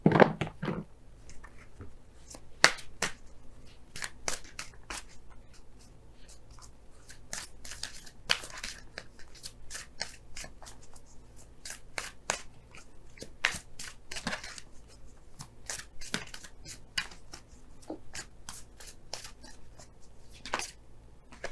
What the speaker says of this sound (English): let's go ahead and pull your Romance Angels cards for this week